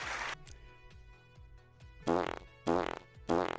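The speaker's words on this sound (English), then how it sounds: "3 fart salute. And a bonus fart." Fart sound effects played on a live stream: a short opening blast, a quiet stretch with low thumps, then three loud, buzzy, rasping farts in quick succession.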